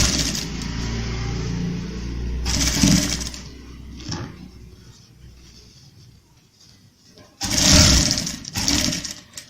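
Machine stitching on a kali-style kurta: a steady motor whir at first, then short bursts of running stitches broken by quiet pauses, close by.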